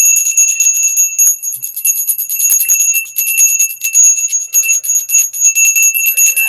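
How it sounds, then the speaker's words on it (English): A bell rung to clear the energies of tarot cards gives a steady, bright metallic ringing. Its sustained high tones shimmer and pulse for the whole stretch, close and fairly loud, with no voices. "So I'm going to ring the bell to clear the energies of the cards."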